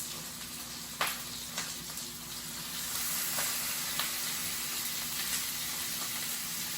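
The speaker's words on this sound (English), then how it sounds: "can hear that nice sizzle." Chicken sizzling in a hot pan, a steady crackling hiss that grows slightly louder, with occasional utensil taps.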